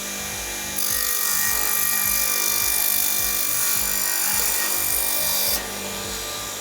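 Power tool cutting through chipboard about 10–12 mm thick, a loud harsh rasping whine that starts abruptly, holds steady for about five seconds over a rhythmic mechanical thumping, then drops away.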